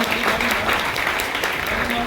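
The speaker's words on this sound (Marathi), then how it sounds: "जोरदार टाळ्या वाजवा." An audience at a charitable trust ceremony claps steadily and densely for a brief stretch, with a voice speaking over the applause.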